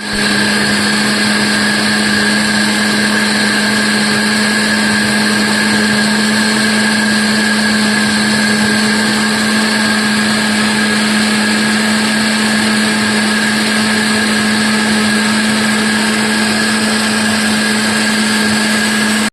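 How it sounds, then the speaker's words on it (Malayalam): An electric mixer blender runs continuously, whipping ripe varikka jackfruit into a shake, with a loud, steady motor whir and high whine holding unchanged for the whole stretch, with no talking. "ഇത് അടച്ചിട്ട് നമുക്കിത് ഒന്ന് മിക്സി."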